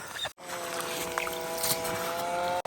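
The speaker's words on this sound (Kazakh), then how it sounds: "Бензин мотормен дарылдап мұздарды тесіп жатыр, жарып жатыр." A petrol-engined ice auger drills through frozen lake ice during winter fishing at Sultankeldi lake, a steady buzzing motor drone that cuts out briefly near the start and then runs on evenly.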